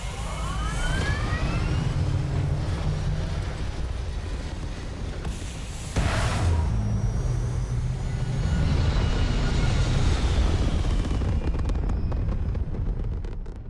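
A spaceship's engine thrusts as the craft lifts off in Starfield, a loud, steady roar with a rushing, wind-like quality that surges after a brief dip midway and holds strong throughout, with no voices.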